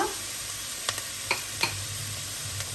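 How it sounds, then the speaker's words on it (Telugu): Curry leaves frying in hot oil, a steady close hiss and sizzle with a few light clicks and pops of stirring scattered through, no voices. "సో కరివేపాకు కొద్దిగా ఫ్రై అయిన తర్వాత"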